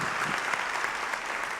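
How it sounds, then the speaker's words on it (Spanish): A church congregation applauds during a sermon, a steady wash of dense clapping at moderate volume, heard alone without speech. "¿No le da un aplauso al Señor por eso?"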